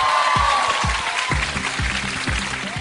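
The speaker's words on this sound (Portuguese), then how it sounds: "Salve de palmas para a Tati Piriguete" Steady applause from a crowd fills the space, with periodic low thumps and a faint tone sliding underneath.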